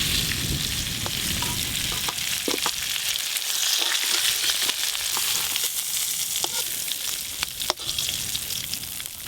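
Potatoes and garden-fresh brinjal fry in oil in a pan, giving a steady, close hiss with light crackles and occasional soft clicks from stirring throughout, no voices.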